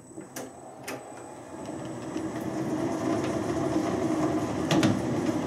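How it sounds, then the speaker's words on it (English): A metal lathe runs with its leadscrew nut engaged, a steady mechanical whir and hum that builds and holds, with a few sharp clicks early and near the end. "I'll set the lathe away and I'll engage the nut just to make sure that it's moving in the right direction."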